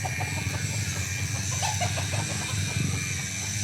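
Chickens cluck on a hillside farm in short scattered calls over steady background noise, with pigs and other livestock kept nearby.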